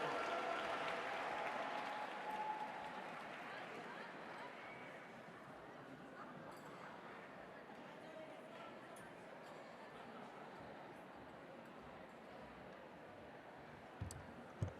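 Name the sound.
audience applause at a gala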